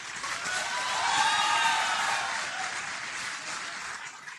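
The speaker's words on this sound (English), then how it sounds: "second and truly deserving round of applause goes to your professors" Sustained applause from a convocation audience honoring professors at a graduation ceremony, steady dense clapping swelling slightly in the middle and then easing, with no talk over it.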